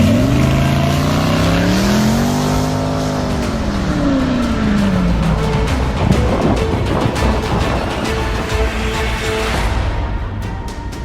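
A Koenigsegg hypercar accelerates hard, its engine note rising and sweeping in pitch, then roaring on loud and near with a dense, sustained rasp for the full stretch.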